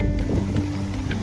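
Strong wind blowing outdoors at the Dane John Mound and garden in Canterbury, England, a steady, loud rumbling rush that buffets the microphone continuously with no pauses.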